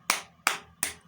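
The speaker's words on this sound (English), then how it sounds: "You know, clapping," Three sharp, separate hand claps ring out alone at an even, unhurried pace, each one close and crisp with a short decay.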